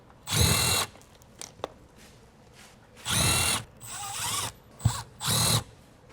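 A power drill backing screws out of a backup camera cover, three short loud whirring bursts separated by pauses with small clicks and handling noises between them.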